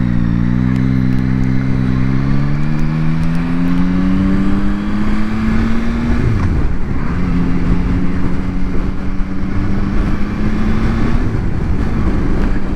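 Engine of a Yamaha Tracer 9 GT motorcycle on the move, a steady smooth drone whose pitch climbs gradually, dips briefly mid-ride, then settles back into an even hum under constant wind rush.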